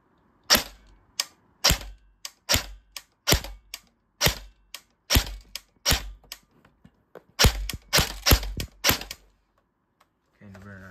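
An airsoft FN SCAR L rifle fires into a chronograph at close range in sharp, snappy bursts, single cracks spaced out first and then a quick rattling cluster, with quiet gaps between.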